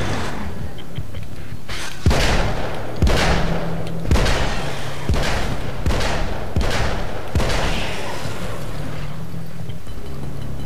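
Eight heavy revolver shots from a magnum in a video game, fired one after another at a steady pace about a second apart, each a loud sharp crack with a short booming tail over a constant low background hum.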